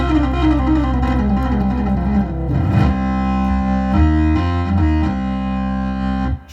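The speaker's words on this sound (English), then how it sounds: "So we're going to put some tube distortion on here. You can hear that, the very straight sound." Hammond organ chords played with tube distortion, a thick, gritty, sustained tone moving through several held chord changes, loud and up close.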